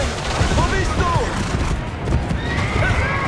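A horse neighs and whinnies amid clip-clopping hooves and gunfire in the video game Assassin's Creed Brotherhood, the loud busy game mix carrying short rising whinny calls across the whole stretch.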